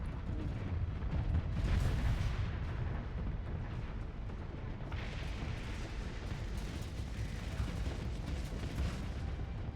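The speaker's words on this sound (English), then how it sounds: "I was waiting for the rift torpedo there" A rift torpedo fires in a pirate playthrough of a space strategy game, a dense rumbling barrage of booming, crackling blasts rolling on steadily throughout, loud and without talk.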